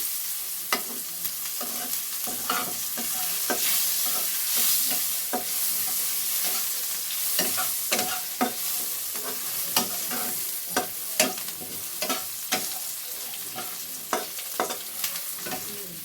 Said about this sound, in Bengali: পেঁয়াজটা একটু নাড়াচাড়া করে নিয়ে